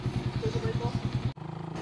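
A motorcycle engine idles close by with a steady, fast chugging pulse that cuts out sharply for a moment before resuming, after a mechanic's repair work on the bike's exhaust.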